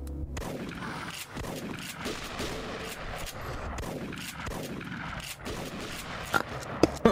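Steady gunfire in the zombie shooter Last Stand Union City, repeated shots in an even rhythm throughout, loud and close, with a couple of sharper hits near the end.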